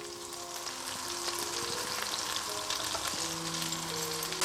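Butter melting in a pan on low heat, giving a steady soft sizzle and fine crackle throughout, fairly quiet with no voices.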